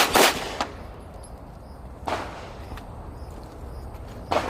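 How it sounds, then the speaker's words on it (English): Pistol shots from an FN 509 Tactical handgun fired at about five yards, three sharp, loud reports spaced roughly two seconds apart with quiet outdoor background between them. "FN 509 tactical, approximately 5 yards, 5 rounds, gone"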